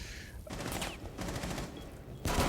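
Counter-Strike gunfire during a competitive esports match, with several faint bursts of shots over a busy, muffled game background.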